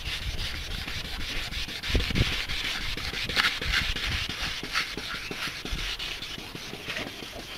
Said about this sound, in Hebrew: אנחנו כל הזמן משפריצים מים על הפנס ומלטשים אותו בצורה הזאת